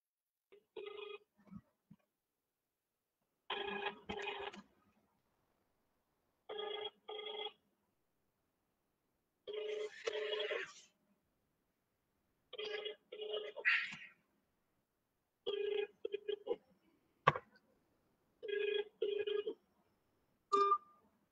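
Ringback tone of an outgoing telephone call, sounding as about eight paired tone bursts at steady intervals of roughly three seconds with silence between them. The tones are clear and sound alone, with no talk.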